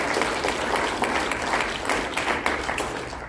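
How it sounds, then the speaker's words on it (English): Audience applause at a soccer association AGM honouring a club's youth license, dense steady clapping from a crowd throughout, fairly loud and continuous without speech. "A little round of applause for that."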